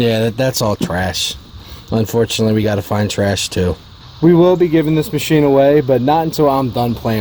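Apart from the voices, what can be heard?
No everyday noise stands out behind the speech.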